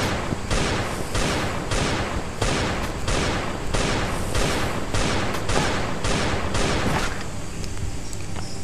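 Rapid bursts of heavy gunfire from a special weapon in the Last Day on Earth survival game, about a dozen sharp, evenly spaced loud shots ringing close before a short tail.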